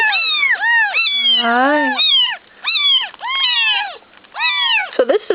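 Hungry nursing kittens meow repeatedly and insistently, several high, rising-and-falling cries overlapping in quick succession, close and loud, with a brief spoken greeting.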